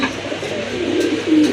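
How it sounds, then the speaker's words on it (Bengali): A pair of native Bengali pigeons, desi birds known for strong calling, coo in low repeated rolling notes close by, with faint background noise behind them. "আরেক জোড়া কবুতর, দেশি কবুতর, খুবই ভালো ডাকে"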